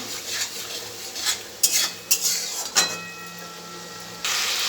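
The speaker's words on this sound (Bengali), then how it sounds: "আরেকবার লেড়ে নেবো।" A few sharp scrapes and clanks of a spoon stirring potato curry (aloo dum) in a pan, followed by a steady hiss.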